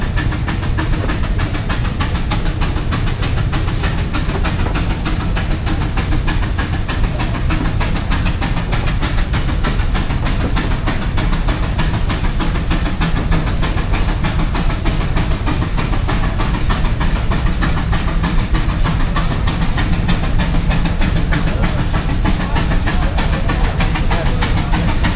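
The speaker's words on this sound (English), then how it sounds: "Steam shovel, or roller, I mean, little roller." Steam tractors and a small steam roller idle in a parade lineup at a threshermen's reunion, giving a continuous loud hiss and rapid rhythmic chuffing that runs steadily throughout.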